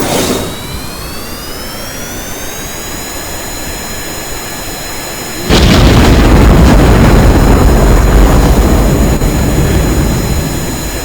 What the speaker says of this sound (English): Igniting main engines.